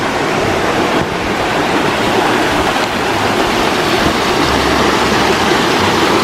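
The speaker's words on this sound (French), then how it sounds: "Le petit ruisseau." Small stream flowing among rocks in a wooded gorge, a close, steady rush of water with no break and no voices.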